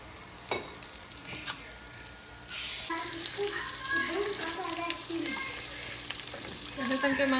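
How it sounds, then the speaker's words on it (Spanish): After a few light knocks, food drops into hot oil and a loud, continuous sizzle and crackle takes over and keeps bubbling steadily to the end. "Y ahora los vamos a freír por 30 segundos."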